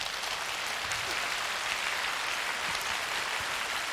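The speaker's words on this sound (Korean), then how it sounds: "박수로 맞이해 주시면 대단히 고맙겠습니다." Studio audience at a Korean television music show applauding as a guest enters, a steady, even wash of many hands clapping that fills the whole stretch without pause.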